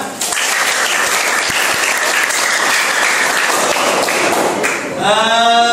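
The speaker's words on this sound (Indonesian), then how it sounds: "Tepuk tangan." Students in an Indonesian school classroom burst into loud, dense clapping that fills the room steadily for about five seconds before dying away into a brief tonal sound at the end.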